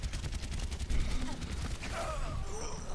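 Rapid gunfire in the video game Overwatch, a fast stream of sharp evenly spaced shots running through most of the clip over busy game effects, with a faint voice near the end.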